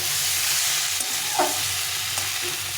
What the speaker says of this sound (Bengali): জিরে গুঁড়ো লঙ্কা দিয়ে একটু কষিয়ে নিলাম ভালো করে